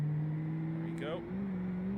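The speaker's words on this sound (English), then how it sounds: "Listen to that turbocharger spool up." A Gavril Roamer LXT35 engine in BeamNG.drive drones steadily, then a rising whistle of the turbocharger spooling up sweeps upward briefly as the engine tone shifts higher, heard up close with a voice speaking over it.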